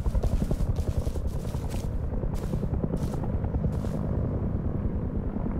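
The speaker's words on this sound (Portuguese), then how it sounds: "Helicóptero do rasante aqui, mano." Helicopter in the video game Rust flying low overhead, a loud continuous rotor rumble with rhythmic chopping that holds steady throughout, with no talking.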